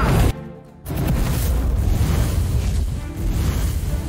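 A fire magic spell explodes in the fantasy tactics game Lost Eidolons: a loud, broad burst that briefly drops away, then swells into a sustained roaring rumble.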